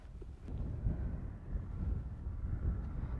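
Steady wind buffeting a microphone, a low rumbling roar with gusty swells throughout and no voices.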